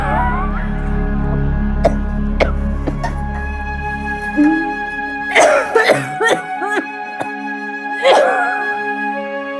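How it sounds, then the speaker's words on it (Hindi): A mother's coughs and throat-clearing come in a cluster over a steady background hum, fairly close and moderately loud, in a Hindi TV drama scene. "कितनी खांसी हो रही है आपको?"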